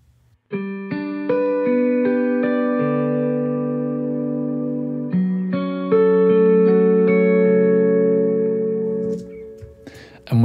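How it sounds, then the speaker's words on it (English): A Nightfall guitar patch from the HEMISPHERE library plays an arpeggiated triplet pattern with warm mid-range saturation. Sustained, ringing notes stack into steady chords with effects-laden shimmer, loud and continuous with no talking. "this is a more typical guitar sound, but it's got a lovely mid-range saturation to it"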